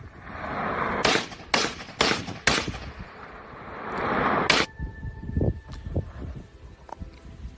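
Several gunshots are fired at drones in the sky, a handful of sharp, loud cracks in a quick ragged sequence over rushing outdoor noise, followed by quieter scattered pops.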